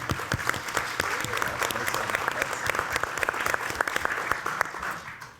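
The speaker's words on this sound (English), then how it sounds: "we're going to give you a round of applause for a great job" An audience at a healthcare panel session claps in a sustained round of applause, many hands producing a steady, moderately loud patter with individual sharp claps standing out.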